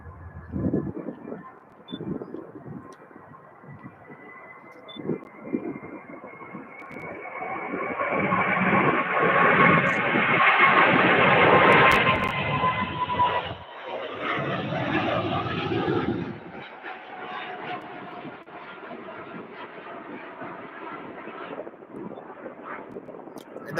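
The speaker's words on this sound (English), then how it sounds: "we have a very, very, very heavy UPS 747 about to take off" A heavy UPS Boeing 747 cargo jet takes off at Louisville airport. Its deep engine roar builds into a loud, broad rumble that peaks midway, then fades into a lingering distant drone.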